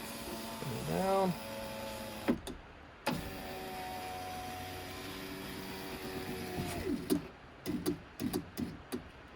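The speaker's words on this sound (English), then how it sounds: "Alright, I'm gonna bring the window up. Bring it down." An electric window motor in a 2015 Toyota Tacoma driver's door whines as the glass runs up, stops with a thunk, then runs down again, followed by a few light clicks and knocks, close and fairly quiet.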